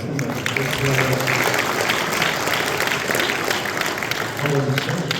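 Audience applause at a live evening event with UFC lightweight champion Khabib Nurmagomedov in Chicago, a steady dense round of clapping from a large crowd filling the clip, with faint voices mixed in underneath.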